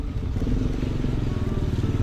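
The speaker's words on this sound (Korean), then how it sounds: "이거 여기 오토바이도 와" A motorcycle rides through a flooded street in Yogyakarta, Indonesia, during the rainy season. Its engine gives a loud, close, steady rumble with the wash of water beneath it.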